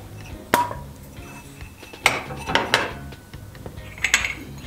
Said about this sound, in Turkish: Hemen içerisine bir diş sarımsak ve bir su bardağı nohutu koyuyorum.